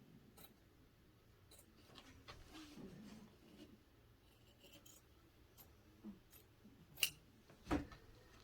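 Scissors snip through towel fabric in a few scattered cuts, quiet and close, with two sharper snips near the end and no talking.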